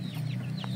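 A brief, close cluck from backyard chickens kept in a pen, short soft calls over a steady low hum, no voices.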